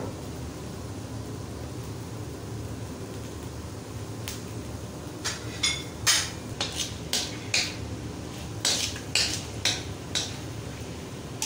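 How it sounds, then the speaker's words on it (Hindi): Finely chopped garlic fries in a little oil in a pan, with a steady hiss of sizzling throughout and a run of sharp utensil clinks and scrapes against the pan toward the end. "उसी बर्तन में हम थोड़ा सा ऑयल डालेंगे। अब हम इसमें शामिल करेंगे लहसुन बारीक कटा हुआ"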